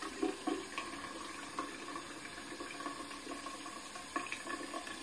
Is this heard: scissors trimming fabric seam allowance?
no